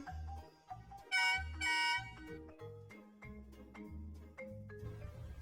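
Two long, loud honks of a truck horn blare back to back, close by, with light background music continuing around them.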